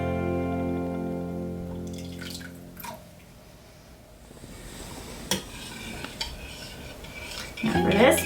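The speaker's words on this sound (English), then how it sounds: "So stir it until it starts to pull away from the edges" A slime mixture with saline solution stirred in a bowl: soft wet scraping and sloshing, faint and close, with a few sharper clicks of the utensil against the bowl and a brief squelchy burst near the end.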